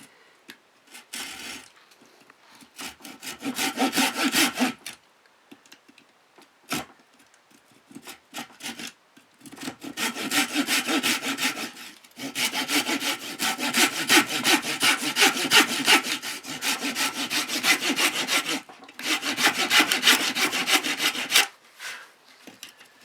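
Hand saw cutting wood indoors with no workbench or vise, the piece braced against the body: long runs of rasping back-and-forth strokes in steady rhythm, close and loud, broken by short pauses.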